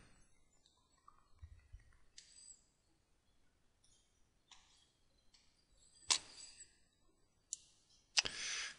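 Computer mouse clicks while opening an article on a historic newspaper website, a few sharp, brief clicks spaced apart, fairly close, with a quiet room behind them.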